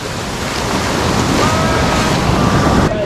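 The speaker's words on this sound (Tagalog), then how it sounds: "Napakalakas ng alon mga tropa." Strong ocean surf pounds a white-sand beach at Baishawan in Kenting, Taiwan, a steady loud wash of breaking waves with gusty wind buffeting the microphone throughout.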